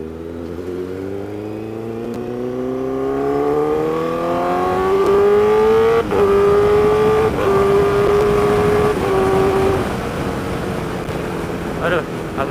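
Honda CBR 1000 RR sportbike accelerating on throttle along a left-hand stretch, its loud engine note climbing steadily in pitch and then holding steady, with a rider talking over the engine and wind.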